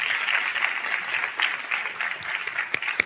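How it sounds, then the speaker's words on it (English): A conference audience at a closing plenary session applauds steadily, a dense wash of many hands clapping together throughout, with a few sharper claps standing out near the end. "Can we give a round of applause?"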